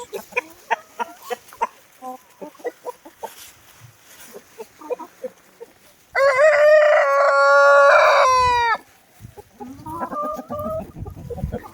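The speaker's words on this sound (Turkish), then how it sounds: "genç horozumuz" A young rooster crows once, loud and close, a long strained call that rises and trails off, with clucking of chickens let outside and farmyard chatter before and after.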